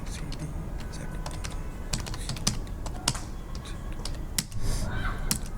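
Rapid, irregular clicking of a computer keyboard as a GST number is typed into a purchase bill in Tally Prime, close and steady with sharper keystrokes scattered throughout.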